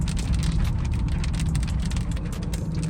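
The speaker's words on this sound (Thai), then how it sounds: "ฝนมาแล้วปอกแปกปอกแปก" Rain pattering steadily on a vehicle during a drive on the road between Muang Tumlan and Muang Thapangthong, over a constant low engine and road rumble with dense patter throughout.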